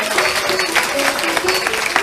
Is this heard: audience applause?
yes